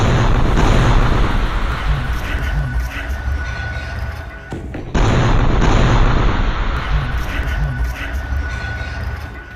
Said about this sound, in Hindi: रात के अंधेरे में ये बुलडोजर अचानक फट जाता है, जिसमें बहुत बड़ा धमाका होता है।